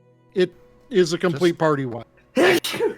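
A single sharp sneeze bursts out near the end, close and loud, following a few seconds of conversational talk.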